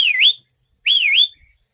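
A person whistles loudly and piercingly twice, each a short rising and falling sweep, with a brief pause between them and no talking.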